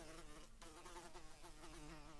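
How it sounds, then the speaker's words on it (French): A housefly buzzes indoors with a faint, continuous whine that wavers in pitch as it moves about, quiet and alone with no talking. "Tiens une mouche, tu veux vraiment venir me faire chier ma vidéo toi?"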